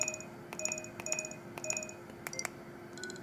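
Keypad key tones from an LG GS155 mobile phone: a series of short electronic beeps, some in quick pairs, quiet against light background hiss.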